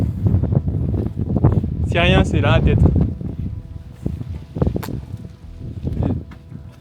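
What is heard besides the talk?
wind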